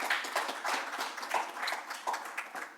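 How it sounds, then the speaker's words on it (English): Light applause from a small audience at a cyber alumni panel, a thinner patter of separate hand claps with audible gaps and a loose rhythm, fairly close. "Can you guys give them a round of applause?"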